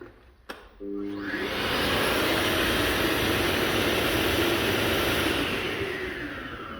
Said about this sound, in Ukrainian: Включаємо пилісос.